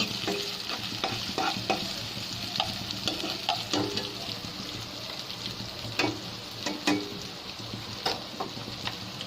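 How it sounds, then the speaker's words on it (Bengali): Chopped onion and garlic fry in oil for a bean and potato vegetable dish, giving a continuous moderate sizzle broken by repeated light stirring clicks and scrapes, with no voices. "তাহলে পেঁয়াজটা রসুনটাকে আমি খুব ভালো করে ভেজে নিচ্ছি"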